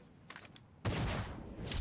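Final Fantasy XIV Shadowbringers gunfire: a couple of faint distant pops, then a sudden loud burst of firing that sustains briefly and swells again at the end.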